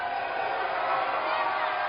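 A wrestling arena crowd roars steadily for nearly two seconds, a dense, even wash of cheering voices with no single shout standing out.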